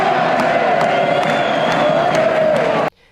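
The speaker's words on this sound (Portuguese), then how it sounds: "A torcida vibrava a cada momento, cantava e empurrava o time" A dense football crowd at a 2022 World Cup semifinal in Qatar roars and cheers continuously, with whoops and shouts rising from the mass of voices, loud and sustained before cutting off abruptly near the end.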